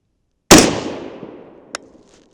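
A rifle fires a single loud, close shot while its Vortex scope is being sighted in outdoors. The sharp crack trails off in a long, fading echo, and a small metallic click follows about a second later.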